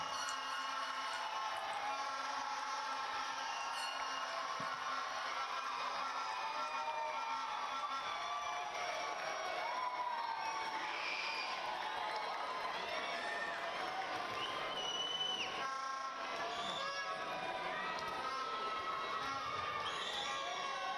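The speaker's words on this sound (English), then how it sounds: "Face your parents, families, teachers, and give them a round of applause for all of their support." Graduation crowd at the Yonkers High School Class of 2026 ceremony applauding parents, families and teachers, a steady broad wash of clapping and cheering with scattered shouts that carries through the whole stretch, a voice over a PA briefly heard.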